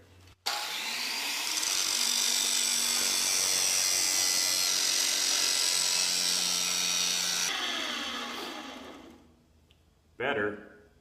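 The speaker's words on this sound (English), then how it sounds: "Not gonna work. Okay, bigger grinder." Angle grinder running on a rounded metal surface during press brake fabrication, a loud continuous high whine with a rough grinding hiss for several seconds that winds down, followed by a short burst of speech.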